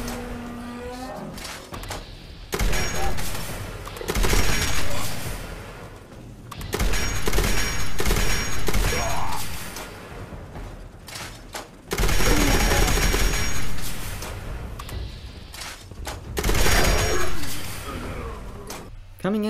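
A Tesla rifle fires in Fallout 76, loud sustained bursts of crackling automatic fire repeating in three long volleys separated by short pauses, with a voice speaking between them.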